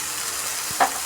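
Soaked dal going into a pan with spring onions and ground peanuts, a steady hissing sizzle with a couple of quick clinks near the end.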